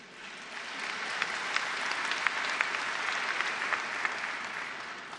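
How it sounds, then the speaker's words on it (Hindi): A large audience at a plenary session in St Petersburg, Russia, applauds continuously, a dense, even wash of clapping with occasional sharper individual claps standing out, heard from a distance with no speech. "लेकिन अब ज्यादा ताली एक और बात पर आपको बजानी पड़ेगी"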